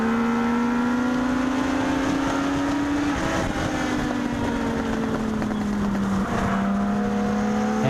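Legends race cars circling the Magic Valley Speedway track, a steady loud engine drone with rising and falling whine as cars run close together, continuous with no talking.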